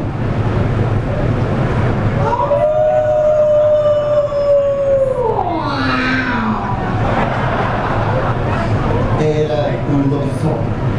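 A long, wavering howl rising and then sliding downward, loud and close, heard over a constant noisy background with a voice present at the Blue Space Halloween show.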